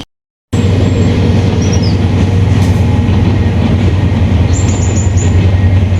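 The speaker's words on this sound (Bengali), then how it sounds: "আজকে ট্রেন অনেক স্লো গতিতে চলতেছে, অনেক স্লো।" A train rolls slowly along with a steady, heavy low rumble and faint rattling from the carriage, continuous throughout with no voices.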